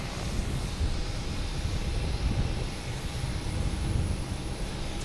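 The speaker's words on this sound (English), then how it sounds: "next to arrive, we have a JetBlue coming in from Pittsburgh," A JetBlue Embraer E190 jet airliner arrives at Boston Logan Airport, giving a steady, moderately loud engine rumble that holds evenly at a distance with no voices.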